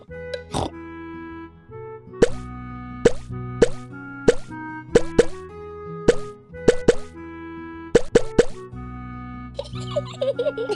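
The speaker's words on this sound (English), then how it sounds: "You can stir the Christmas pudding, and don't forget to make a wish." Thick Christmas pudding is stirred in a Peppa Pig cartoon: a dozen loud, wet plops in an uneven rhythm over a playful melody, ending in a brief bubbly flourish.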